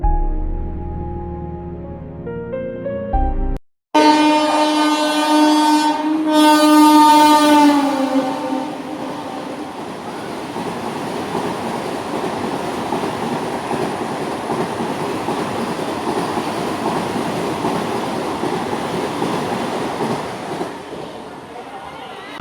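A Vande Bharat sleeper train gives a loud horn blast with sustained harmonic tones near the start, then runs on with a steady rumble and clatter that stays close for the rest.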